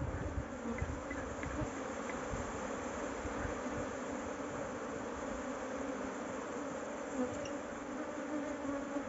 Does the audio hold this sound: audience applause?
no